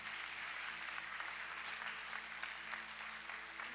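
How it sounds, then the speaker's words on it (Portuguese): A steady wash of applause from a church congregation, sustained and even, heard at moderate distance with no talking. "dê um forte aplauso ao Senhor em nome de Jesus"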